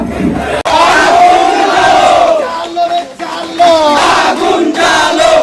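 A large street protest crowd roars and chants in unison, with rising, swelling shouted slogans that come in loud waves, close by and dense.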